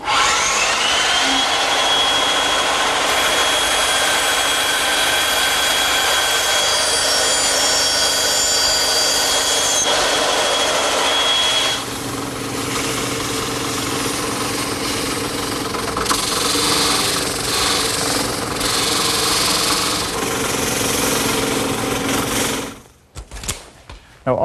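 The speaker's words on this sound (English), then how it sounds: "I'll just use my bandsaw." A bandsaw cuts a shaped elevation into a wooden rail for a hallway mirror frame, the steady motor hum and blade noise running continuously and loud, dropping in tone partway through as the cut loads.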